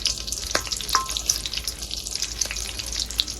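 Panch phoron spices with whole green chillies and bay leaves crackling in hot oil, a steady close sizzle with faint scattered pops and light splashy texture, no voices.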